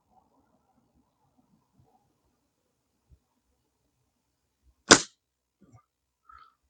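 A single sharp shot from an HW98 break-barrel spring air rifle cracks out close by in near silence, followed by a faint click and a small clatter.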